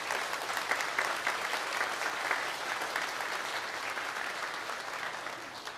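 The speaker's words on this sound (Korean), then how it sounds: "환영의 박수 하겠습니다." Church congregation applauding to welcome a visiting missionary during a Sunday worship service, a steady, even clapping that carries on throughout at moderate volume with no speech over it.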